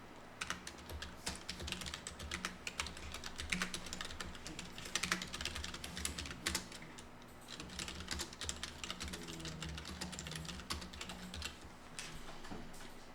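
Rapid typing on a computer keyboard while entering data into an Excel spreadsheet, with quick irregular key clicks running continuously and close but fairly quiet, with no talking.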